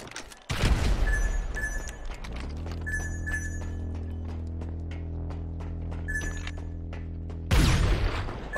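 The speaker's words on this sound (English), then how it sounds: "you hit me with two beautiful railgun shots in a row" Railgun fire in a GTA V sniper deathmatch: loud blasts with a rumbling sustained low hum between them, sharp bursts near the start and end, and metallic clicks scattered throughout.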